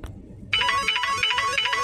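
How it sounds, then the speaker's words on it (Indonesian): A bright electronic WhatsApp ringtone melody begins abruptly after a brief quiet moment and plays on steadily with a busy, jangly texture. "saya akan pilih ringtone yang ini"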